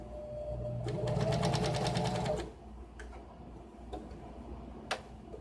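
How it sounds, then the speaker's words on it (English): A sewing machine stitches a homemade fabric Swiffer pad in a fast, steady run of needle clicks for about a second and a half, then stops, leaving a few faint clicks and handling sounds nearby. "the sewing makes sure it stays there"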